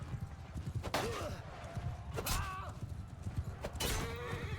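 Horses clatter and neigh amid battle in the video game Eagle Rising Spartacus, repeated hoofbeats under several sharp whinnies with a faint voice in the background.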